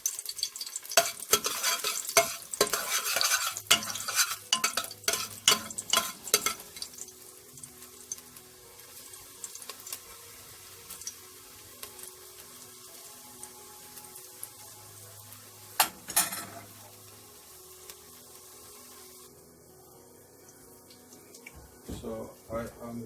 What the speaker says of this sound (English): So I'm burning the garlic.